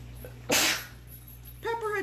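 One sharp sneeze bursts out close and loud after a burst of ground pepper while a salad is being made, followed by a brief voice.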